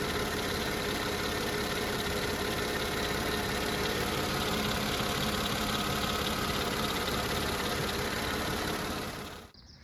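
A Mercedes E320 car engine idles, producing a steady, even, close-up rumble that holds at constant loudness throughout and cuts off at the very end.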